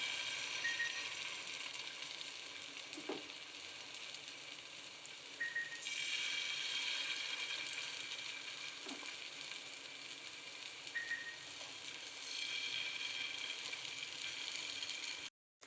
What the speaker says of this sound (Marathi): तेल तापलेलं आहे आता आपण आपलं थालीपीठ टाकून घेऊया